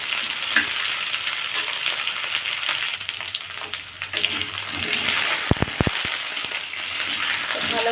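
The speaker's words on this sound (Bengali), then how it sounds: "এইভাবে ভালো করে ভেজে নিতে হবে।" Kohlrabi sizzles steadily in a hot pan, a continuous close frying hiss with brief stirring clatters near the middle, no voices.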